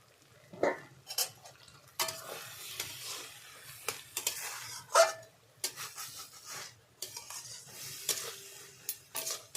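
A metal pot lid lifts and a spatula stirs lentils (dal) cooking in a kadai, giving scattered clinks and scraping strokes with soft sizzling between them. The sounds come at fairly close range, at low overall volume, with no voices.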